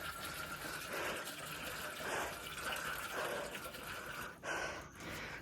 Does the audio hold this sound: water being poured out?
yes